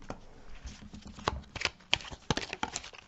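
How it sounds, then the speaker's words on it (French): Lenormand cards shuffled and drawn by hand, soft rapid riffling and slapping of card stock with a few sharper flicks, close and quiet, no talking. "Pour l'instant, je tire les cartes"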